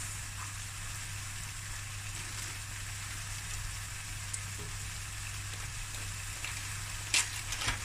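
Cooked rice frying in a hot pan for sausage fried rice, a steady continuous sizzle with a brief clatter near the end and no talking.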